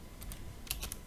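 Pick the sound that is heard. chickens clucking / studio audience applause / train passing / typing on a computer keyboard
typing on a computer keyboard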